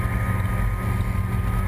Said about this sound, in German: Dies ist auch eine schwere Erprobung für den Motor, denn hier geht ziemlich lange Vollgas in höhere Drehzahl.